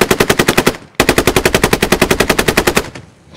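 Machine gun suppressing fire in the video game Squad: two long, loud bursts of rapid, evenly spaced shots close to the listener, separated by a brief pause and ending in a fading echo, with no talking.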